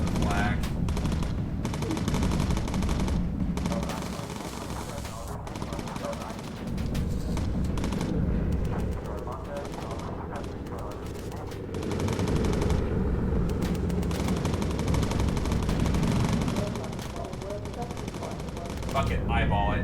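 Sustained machine gun fire in the bomber video game Bomber Crew rattles on in long bursts, broken by a few brief lulls, with voices talking at times.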